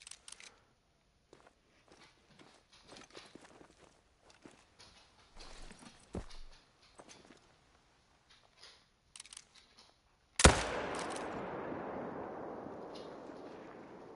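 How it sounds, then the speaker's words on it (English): In theHunter: Call of the Wild, a hunting rifle fires once as a sharp, loud crack after a stretch of quiet footsteps and small rustles. A long echoing tail decays slowly behind it. "Okay, I did shoot him."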